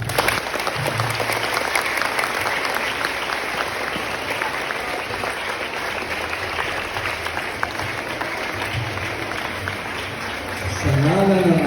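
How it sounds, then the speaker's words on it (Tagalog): An audience at a high school mass applauds loudly with dense, sustained clapping that fills the room. A voice begins speaking as the applause ends. "pumalakpak ng malakas."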